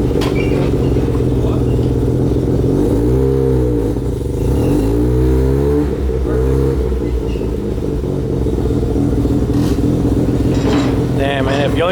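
Mazda RX-7 FC rotary engine in a yellow car on a dyno, a loud continuous drone with two rising and falling revs in the middle, steady throughout.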